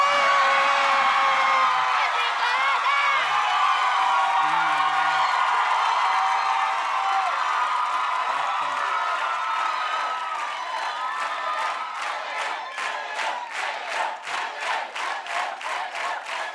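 A large crowd cheers and whoops loudly, then rhythmic clapping builds toward the end as the shouting continues underneath.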